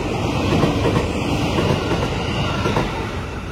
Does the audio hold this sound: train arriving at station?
yes